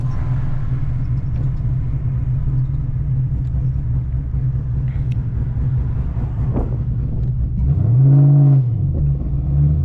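A car engine revs up and falls back in one brief swell near the end, over a steady deep rumble of driving from inside a cammed six-speed ZL1.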